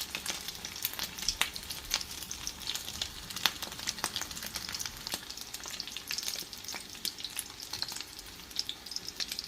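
A shrimp omelette (tortang hipon) fries in a pan with a steady crackling sizzle, sharp pops of oil scattered throughout, close and moderately loud, with no voices.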